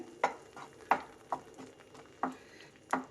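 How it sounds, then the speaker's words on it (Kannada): Onions frying on a medium flame for onion chutney, with a quiet sizzle under five or six distinct spoon scrapes against the pan at a slow, even pace, and no talking. "ಇದು ಒಂದು ಮೂರರಿಂದ ನಾಲ್ಕು ನಿಮಿಷ ಇದೇ ಥರನೇ ಫ್ರೈ ಮಾಡಬೇಕು ಮೀಡಿಯಮ್ ಉರಿ ಇಟ್ಬಿಟ್ಟು ನೀವು ಫ್ರೈ ಮಾಡಿ"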